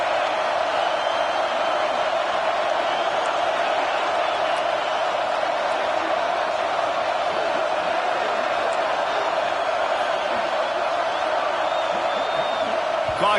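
A video game football stadium crowd roars steadily on a third-down defensive stand, a loud sustained wash of cheering with faint whoops, and a commentator talking over it.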